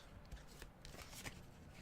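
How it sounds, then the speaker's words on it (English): Soft, quick riffling and flapping of playing cards being shuffled, a steady papery patter close by with no talking. "And one more little shuffle."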